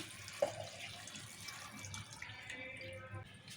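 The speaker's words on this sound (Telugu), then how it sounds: "ఇప్పుడు నీళ్ళు పోస్తున్నా" Faint, steady trickle of water being poured into a pot of washed broad beans, with a small clink near the start.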